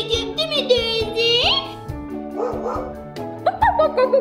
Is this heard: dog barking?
yes